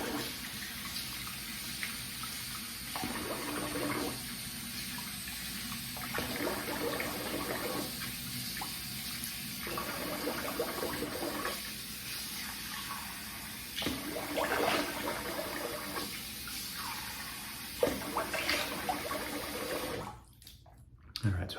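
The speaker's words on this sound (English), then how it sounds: "I do a warm water and then a cold water rinse" Tap water runs steadily into a sink for a warm and then cold rinse after a shave, a continuous close splashing flow with brief pauses in its texture, cutting off near the end.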